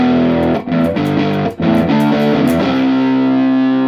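Loud distorted electric guitar rhythm chords ringing through an amplifier with the power amp at about three-quarter volume, with a couple of quick rhythmic breaks before a sustained chord.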